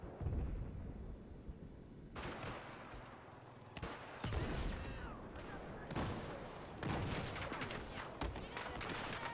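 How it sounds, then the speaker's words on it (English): Heavy gunship fire from an AC-130 in the Battlefield 4 video game: repeated loud booming blasts and bursts of cannon fire in irregular clusters, with rumbling explosions between them. "That AC-130 is really tearing us apart."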